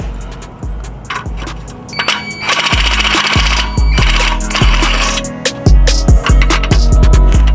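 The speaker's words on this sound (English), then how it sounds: "I might be able to use the drill since I got it off loose." Power drill removing exhaust bolts from a Honda Accord during a downpipe install, loud ratcheting and rattling bursts with metallic clanks and repeated impacts in a garage.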